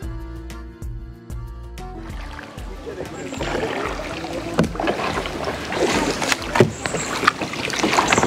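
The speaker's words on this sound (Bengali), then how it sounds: "নৌকাতে দুজন বসবেন এবং নৌকার দাঁড় নিয়ে আপনি নৌকাটিকে চালাবেন, এটিই বেসিক্যালি কায়াকিং" Two people paddle a two-person kayak on the sea off a South Goa beach. A few seconds of tonal music give way to steady water swash, paddle splashes and wind rumble on the microphone, rising in loudness toward the end.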